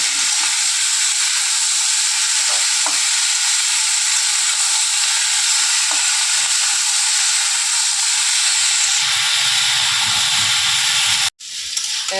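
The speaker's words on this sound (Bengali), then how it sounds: "এবার এটাকে কতক্ষণ এটার সাথে ভেজে ভেজে নেব" Onion, chili and potatoes sizzle steadily in hot oil for the whole stretch, a dense close crackle with a few faint clinks, then a sudden dropout near the end and a brief clatter.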